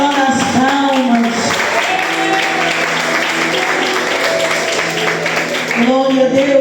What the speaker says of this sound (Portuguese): Para Jesus tem que ser melhor as palmas.